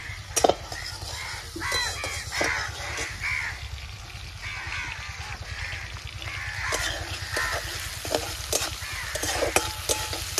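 Chopped tomatoes fry with whole cinnamon and cardamom in a pan, a steady close sizzle with stirring scrapes throughout, while crows caw in the background. The dish is a Bengali prawn malai curry.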